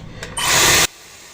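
A Dyson Airwrap hair styler blows air in a loud, steady hiss for about half a second, then cuts off abruptly.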